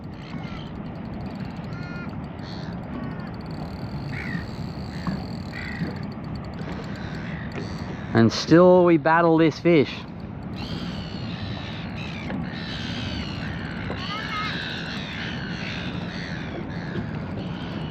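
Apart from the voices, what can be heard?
crows cawing while seagulls fight them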